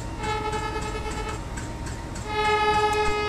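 Another train horn from the Train Simulator Classic game, on a Vande Bharat Express, gives a steady sustained tone that shifts to a louder, slightly different pitch partway through, and no one talks over it.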